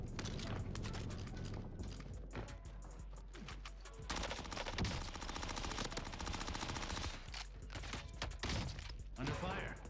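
Gunfire in Call of Duty Warzone on Rebirth Island: rapid, rattling automatic bursts repeating throughout, close and loud, broken by brief pauses, with mechanical clatter and some voices mixed in.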